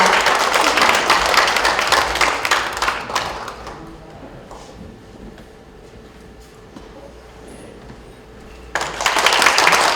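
Audience applause at a book-launch talk concert in Korea, a dense burst of clapping for about three seconds that fades into a quiet room, then swells again loudly near the end.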